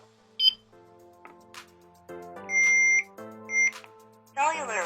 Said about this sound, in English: So if I was to arm the alarm